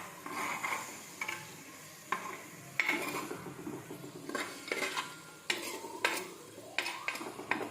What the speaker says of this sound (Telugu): పసుపు అవి కలిసేటట్టుగా కలుపుకోవాలి.